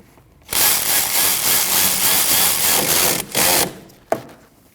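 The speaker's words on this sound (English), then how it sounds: "And tighten your banjo bolt." Ratchet or tool work tightening a banjo bolt on a rear brake caliper of a 2003-2008 Subaru Forester, a dense steady mechanical whirr lasting about three seconds, then a short burst and a sharp click, with no talking.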